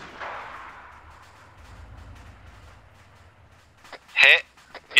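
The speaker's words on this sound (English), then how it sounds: "Missile away." Missile launch and blast in the military shooter Arma 3: a soft whooshing launch with low rumble, then a sharp loud bang near the end, with radio-style voices talking over it.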